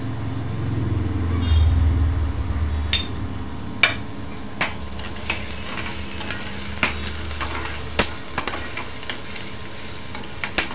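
Crushed garlic and ginger paste hits hot oil in a pan for a spicy farsan bhaji, a loud, rushing sizzle that gradually settles, broken by sharp metallic clicks of a spoon stirring against the pan.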